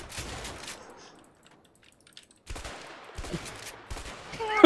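A Way Out video game firefight in a first-person shooting section: clusters of sharp shots broken by a quiet lull, then renewed bursts closing with a loud crack.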